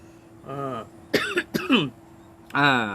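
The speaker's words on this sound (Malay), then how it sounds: "Batuk sampai batuk. Kering." A few dry, raspy coughs and throat clearings come in short bursts, with brief voiced sounds between them in a quiet room.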